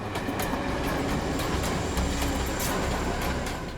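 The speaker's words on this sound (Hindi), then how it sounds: "ये कौन सी ट्रेन थी, लोकल ट्रेन या मेलगाड़ी की आवाज?" A local commuter train rumbles past close by, steady and loud, with rhythmic clickety-clack of wheels over rail joints and faint metallic squeals.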